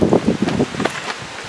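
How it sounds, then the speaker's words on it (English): Strong wind gusting outdoors on a very windy day at a paintball shooting session, buffeting the microphone with steady low rumbling and rustling throughout, loudest in the first half and easing slightly toward the end, with no talking. "it's a very windy day, so accuracy ain't the best"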